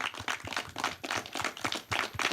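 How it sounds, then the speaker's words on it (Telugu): An audience applauds at a film thank-you meet, with dense, steady clapping from many hands filling the short moment without any talk. "big claps to him"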